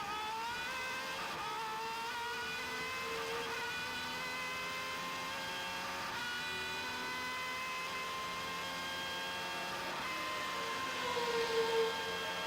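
A high-revving Superleague Formula racing car engine heard from onboard at Jarama, its steady whine rising and falling through gear changes, loud and continuous.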